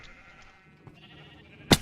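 A single short sheep bleat from Minecraft sounds near the end, brief and fairly loud after quiet background.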